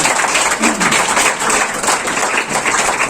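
A church congregation claps together in thanks during a Christian prayer service, a dense, loud, continuous applause filling the whole moment.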